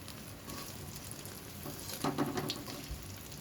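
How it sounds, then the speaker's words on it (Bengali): Brinjal slices fry in oil for a crispy snack, making a quiet, continuous crackling sizzle with small bursts of spitting and popping near the middle. "জলখাবারে এই যে আমার বেগুন ভাজাটা কিন্তু হয়ে যাচ্ছে"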